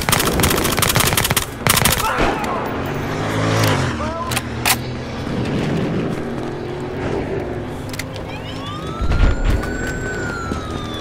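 A police car siren wails amid heavy gunfire and explosions in a loud, chaotic action scene in the video game Battlefield Hardline, with bursts of rapid shots and a rising electronic whine near the end.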